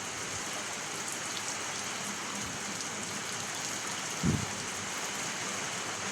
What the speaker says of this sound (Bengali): টিনের চাল তো সাউন্ড অনেক